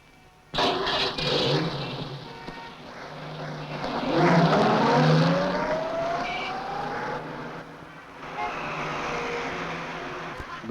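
A taxi car engine while driving, a continuous motor drone with a rising rev partway through, heard close inside the car as voices speak over it.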